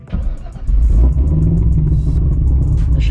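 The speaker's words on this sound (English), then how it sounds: "All right, big fat cam, cold start, and the car is on E." A 2010 Corvette ZR1 with a big cam, running on E85, cold starts: a brief starter crank, then the engine catches and roars to a loud, lumpy, rumbling idle close by.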